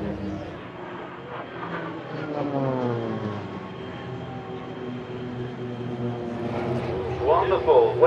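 Red and white aircraft pass over the Florennes International Airshow in 2012, a steady loud engine roar with a whirring drone that swells toward the end.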